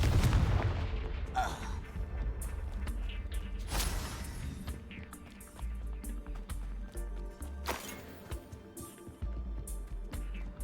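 Confringo blasting spells set off explosions in the Hogwarts Legacy video game, a string of loud booming blasts over rumbling combat noise, with a voice speaking briefly.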